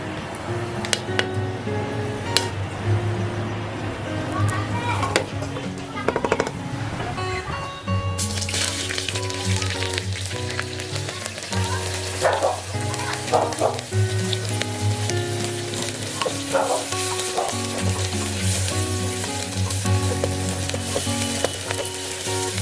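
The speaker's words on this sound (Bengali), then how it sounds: "তেলটা এসে গেলে তেলের মধ্যে দিয়ে দেবো গোটা গরম মশলা" Whole garam masala dropped into hot oil for dhaba-style mutton kosha, a loud continuous sizzle and crackle that swells with brighter spattering partway through, close up with no talking.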